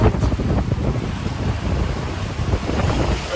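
Wind and waves on the open Atlantic Ocean, a loud continuous roar of wind buffeting the microphone over broad rushing water noise, steady throughout with no voices.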